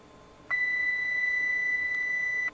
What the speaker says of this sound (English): The avionics master switch can now come on. Listen for the beeping.